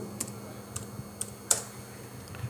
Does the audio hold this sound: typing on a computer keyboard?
yes